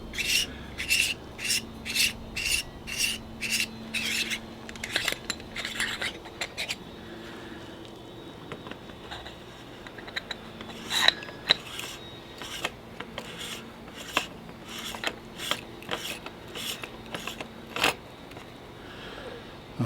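Metal threads of a Flat6A III field flattener ratcheting as it is screwed into a telescope imaging train: a close, quiet run of repeated short scraping clicks in bursts, with brief pauses between turns.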